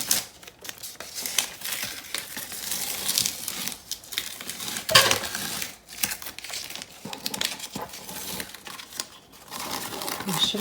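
Tape peeled from the edges of a galaxy painting gives a close, continuous crinkling and tearing rustle with uneven bursts throughout, fairly quiet and with no talk.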